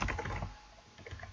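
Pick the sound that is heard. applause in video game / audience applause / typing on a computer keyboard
typing on a computer keyboard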